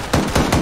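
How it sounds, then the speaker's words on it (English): A .50 cal machine gun in Arma 3 fires three heavy, evenly spaced shots in quick succession, loud and close, with no talking. "Shoot! 50 cal."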